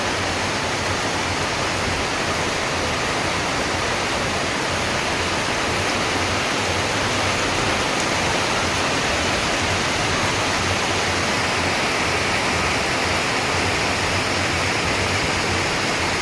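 Heavy rain pours down without a break over flooding farm fields, a dense, loud, unbroken rushing hiss with no voices.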